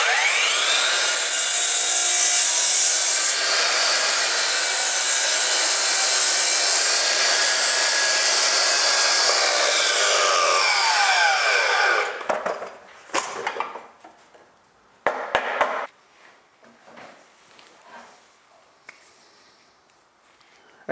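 Loud, close whine of a Makita power saw cutting wood, holding for about twelve seconds before dropping away, followed by brief knocks, clatter and handling sounds of the cut pieces.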